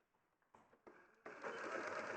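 Sewing machine stitching down fabric, faint at first and then running in a steady, rapid whir that grows louder and continuous toward the end.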